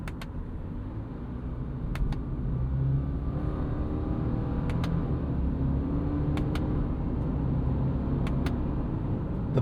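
Subaru Forester Wilderness with a CVT run in manual mode, accelerating under steady paddle-shifted load: a continuous low engine drone with a rising whir and small step changes, heard from inside the cabin with no talk.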